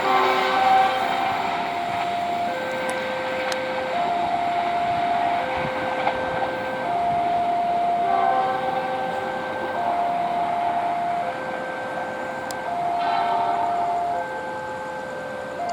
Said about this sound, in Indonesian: Argo Wilisnya ngebut dan berpapasan dengan kereta api